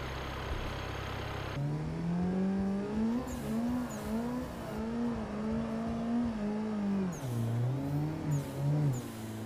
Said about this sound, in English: Now let's see if we can do a fucking skid,